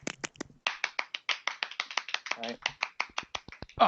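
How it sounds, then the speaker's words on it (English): Sharp, closely spaced hand claps from one person at a tabletop role-playing game session, a quick uneven burst of dry slaps heard up close. "Big round of applause"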